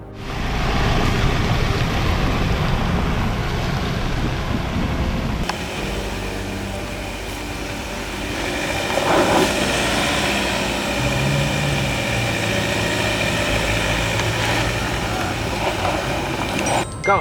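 A Ford Ranger FX4 Max pickup in 4H drives off-road over alternating mounds, its engine a loud steady rumble that rises and eases with the terrain, plus occasional clunks from the body and suspension.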